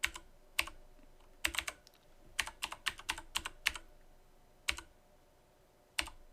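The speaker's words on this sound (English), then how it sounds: "I hope I'm not typing too fast for you." Rapid keystrokes on a computer keyboard come in uneven bursts of sharp clicks with short pauses between them, close and fairly quiet, while a faint steady hum runs underneath.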